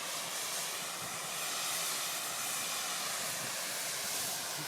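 Steady broadband hiss from a sulfur steam jet in the crater of Mt Sibayak volcano, Sumatra, roaring continuously and loud throughout with no pauses or talk.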